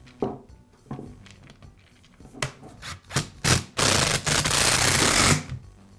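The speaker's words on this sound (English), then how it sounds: "And I'll finish up by reinstalling the housing." Close scraping and rubbing of hard parts, a few sharp clicks and knocks, then a sustained gritty rasp as the housing of a Makita reciprocating saw is fitted back together after a switch replacement.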